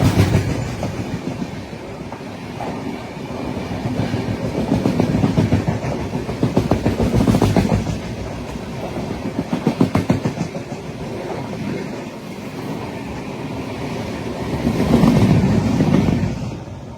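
The Visakha Express rumbles along the rails with a loud, steady clickety-clack of wheels over track joints that swells and eases in waves, with no voices.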